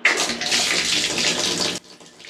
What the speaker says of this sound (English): Tighten it up and turn the shower on.